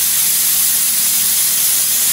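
A pressure cooker vents steam in a loud, constant hiss, a dense close-up rush of escaping vapor that holds steady for the full couple of seconds with no talk.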